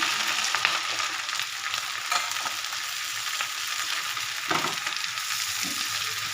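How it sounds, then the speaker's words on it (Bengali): Ground spice paste of cumin, ginger and chili frying with potatoes in a pan makes a dense, steady hiss, and a few soft stirring scrapes come through near the end. "এবার ভালো করে মশলাটাকে কষে নেব"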